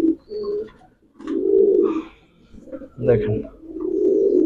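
Grizzle pigeons in a loft coo in soft, low repeated phrases close by, with a voice speaking briefly over them.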